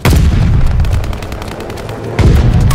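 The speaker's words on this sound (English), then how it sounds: "Hostiles are strafing us!" Enemies strafe the player in Call of Duty Vanguard team deathmatch, producing loud, continuous rapid gunfire with heavy booming low end, close and relentless, swelling again near the end.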